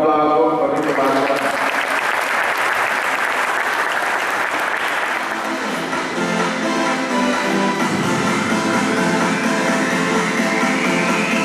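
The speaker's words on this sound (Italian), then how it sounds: "Un applauso a Fabrizio Banca." An audience claps at an award ceremony in the CONI hall, a loud, full burst of applause that carries on steadily throughout, with faint voices mixed in near the end.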